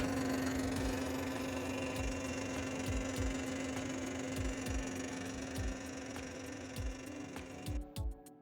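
A homemade faceting machine polishing an African ruby runs with a steady motor hum and a regular ticking rhythm from the lap, holding close and even before briefly cutting off at the end.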